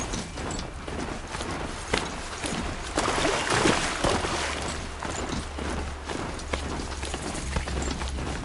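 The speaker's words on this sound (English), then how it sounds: "Pressure's lifting. Rain's here." Steady rain falling in the open world of Horizon Zero Dawn, a continuous hiss with scattered patter. Soft thumping footsteps mix into the wash of rain.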